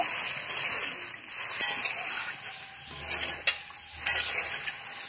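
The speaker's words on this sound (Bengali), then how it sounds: "খুন্তিতে একটু নাড়িয়ে নিলাম।" A spatula stirs a rohu fish curry in a pan after water is added, with a steady sizzling hiss and a few sharp scrapes close up, no voices.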